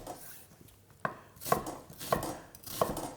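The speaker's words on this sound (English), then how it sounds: "So with the onion, keep the root in again and just" Knife chopping an onion into chunky pieces for mirepoix on a board, a few sharp, evenly spaced cuts ringing out close and clear with no talk.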